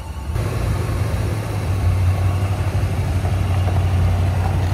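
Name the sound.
old Chevrolet K10 truck engine driving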